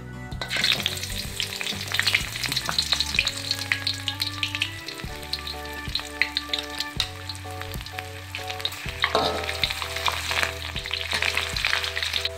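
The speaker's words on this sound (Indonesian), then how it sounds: "Kita goreng petainya." Loud, busy sizzling of petai beans frying in a little hot oil, crackling steadily throughout with occasional stirring scrapes and no voices.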